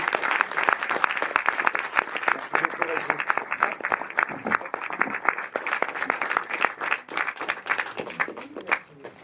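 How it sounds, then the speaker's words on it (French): A French cinema audience applauds a film director after a talk, with sustained steady clapping from a full room and a voice speaking over it now and then. "Vous pouvez applaudir Régis Varnier, s'il vous plaît."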